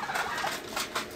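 Domestic turkeys gobbling on a rooftop as they are let out and fed in the morning, a steady run of rough, warbling calls with a few louder bursts, fairly close, no talking.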